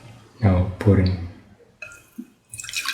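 About 200 to 250 ml of water poured into a heated pan for sweet vermicelli banana pasta, with a splashing, dripping burst late in the clip after a short voice-like sound.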